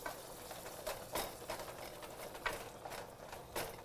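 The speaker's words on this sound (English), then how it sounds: "As you can hear, the sizzling now, and our beef is starting to brown." Steady crackling sizzle of beef browning in a hot pan, with occasional louder spits and pops, close by and without talk.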